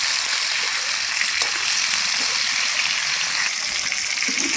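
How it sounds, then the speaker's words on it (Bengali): Chicken pieces for biryani frying in hot oil while being turned over, a loud, close, unbroken sizzle and crackle that holds steady for the whole stretch, with no talking. "চিকেনগুলো আমি উল্টে পাল্টে ভেজে নেব"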